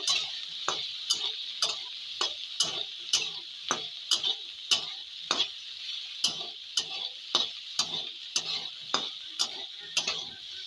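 Cauliflower frying in a pan, a soft sizzle under regular, rhythmic scraping strokes of a spatula, about two per second, with no talk.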